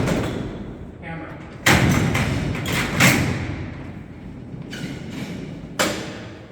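An Alcatraz prison cell door's locking bar is thrown by a lever mechanism at night, giving several loud metallic thuds and clanks, the heaviest two near the start and another toward the end, with someone talking between them.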